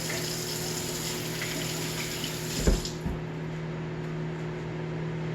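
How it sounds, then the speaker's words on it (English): Tap water runs steadily into a sink while hands are washed, a faint continuous flow with a brief splash midway and no talk. "Just gonna wash my hands quick."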